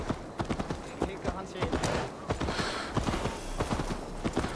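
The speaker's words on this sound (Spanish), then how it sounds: "vamos a tomar este caballo prestado" A horse gallops in Assassin's Creed Valhalla, its hooves beating in a quick, regular clip-clop rhythm, close and loud, with a voice talking over it.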